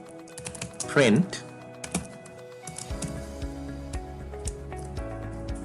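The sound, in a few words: typing Python code on a computer keyboard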